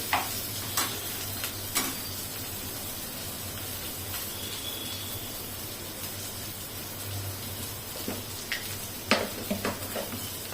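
Dal roasts in a pan with a soft, steady sizzle and hiss, punctuated by scattered light ticks and scrapes from stirring, close but fairly quiet.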